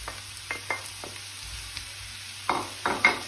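Sliced boletus mushrooms hitting a hot frying pan, with sharp sizzling crackles and stirring scrapes in scattered bursts, louder toward the end, over a low steady hum.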